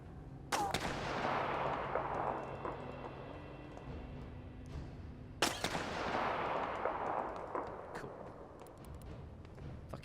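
Two sharp, loud shots from sniper gunfire in the war survival game This War of Mine, spaced several seconds apart, each ringing out with a long echoing tail over a low ambient drone.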